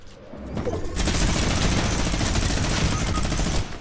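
A minigun fires in the video game Fortnite: a sustained, dense, loud rapid-fire burst that starts softer, swells after about a second and rattles on continuously for several seconds.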